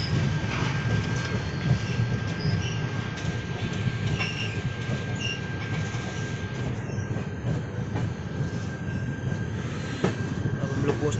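Shri Shakti Express train nearing Shri Mata Vaishno Devi Katra railway station in hilly country, with a steady, loud rumble of wheels on rails and faint squeals and clacks throughout, no voices.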